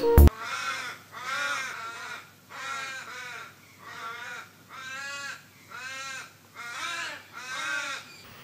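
Crows caw outside a bedroom, a regular series of about eight harsh calls in a steady rhythm, fairly close and clear, after a brief knock at the start.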